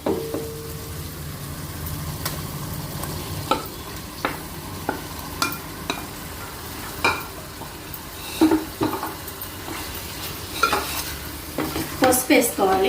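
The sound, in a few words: washed prawns frying and being stirred in a pan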